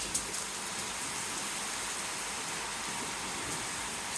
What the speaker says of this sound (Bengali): আমাদের এখানে হচ্ছে বৃষ্টি হচ্ছে, এই যে অনেক বাতাস আছে, বৃষ্টি আর বাতাস